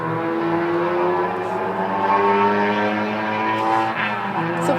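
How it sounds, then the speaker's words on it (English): A loud Jeep Grand Cherokee engine roars in a steady, close, unbroken drone that holds the same heavy level for the whole stretch, with no voices over it. "It's a really loud car."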